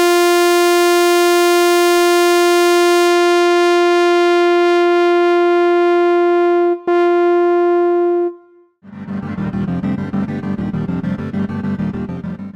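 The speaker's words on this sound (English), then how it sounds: "As I begin to adjust the low-pass filter, I can get the tone to have different degrees of brightness and darkness." Prophet synthesizer sawtooth note held loud and steady while the low-pass filter closes, its bright buzzy edge gradually dulling before a short dropout, then a dense noisy, darker sound follows.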